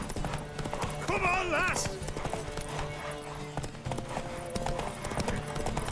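Horse hooves galloping in The Witcher 3, rhythmic clip-clop beats with a brief whinny, heard under loud voiced shouting and encouragement throughout.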